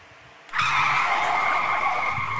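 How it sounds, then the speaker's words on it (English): Taxi tires squeal sharply as the cab rounds a corner in the game 428: Shibuya Scramble, a sudden loud screech that holds steady for about two seconds, close and alone. "The taxi's tires squealed as the cab rounded a corner."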